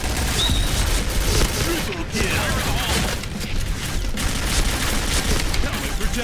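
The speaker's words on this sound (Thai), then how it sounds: "บอกเลยว่าระเบิดที่ผมปาไปเนี่ยมันจะไม่เห็นรัศมีระเบิดเลย" Thrown grenade blast in an HK416 first-person shooter game, buried in a dense, constant roar of gunfire and explosions with no single burst standing apart, loud throughout.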